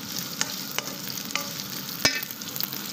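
Meatballs sizzle in hot oil in a pan alongside shrimp, a steady crackling fry close by, punctuated by several sharp clinks of a utensil stirring against the pan.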